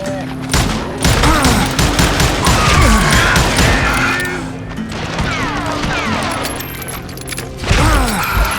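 Rapid gunfire from the western shooter video game Call of Juarez Gunslinger, with dense bursts of shots, ricochets and crashes, loud and close. Game voices shout over the shooting.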